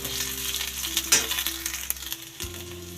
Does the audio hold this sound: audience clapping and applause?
no